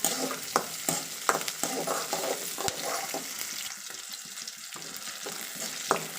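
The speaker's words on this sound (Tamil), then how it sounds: "வெங்காயம் நல்லா சாஃப்டாக ஆகிற அளவுக்கு நம்ம வதக்கிக்கலாம்" Small shallots sauté in oil for sambar, crackling and sizzling close up while a spatula scrapes the pan in irregular strokes, with no speech.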